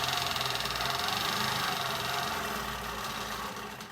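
A longarm quilting machine runs steadily while stitching down raw quilt edges, a close, continuous rapid mechanical hum with a fast regular pulse that eases slightly near the end, no talking.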